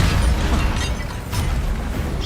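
The Incendio fire spell cast in Hogwarts Legacy: a loud, whooshing roar of flame with a heavy low rumble and a brief crackling burst partway through, sustained for a couple of seconds with no talking.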